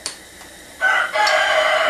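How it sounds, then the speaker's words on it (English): A rooster crows loudly and close by on a backyard farm with barred rock hens, one long drawn-out call rising after a quiet start, with no talking over it. "That sound is my rooster."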